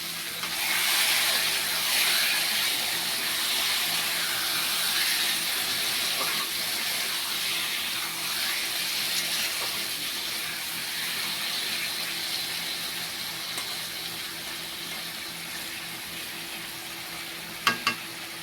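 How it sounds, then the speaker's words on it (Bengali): Fish frying in a pan, a continuous soft sizzle and bubbling with the stirring barely distinct, ending in a couple of sharp utensil clinks against the pan. "এবার একটু নেড়ে দিই।"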